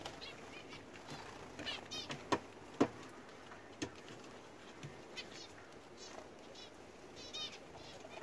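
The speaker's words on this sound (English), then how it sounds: "I love these little zebra finches." Small zebra finches chirp in brief, scattered calls kept by a smallholding, with a few sharper peeps standing out over faint background noise.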